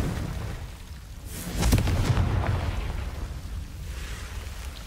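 A Confringo fire spell explodes in the video game Hogwarts Legacy, a single loud burst about midway that swells into a rumbling blast and slowly fades over a low, steady background.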